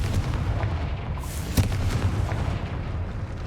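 Confringo spell from Hogwarts Legacy blasting open a gate in a cave, a sharp booming burst over a low rumbling ambient bed.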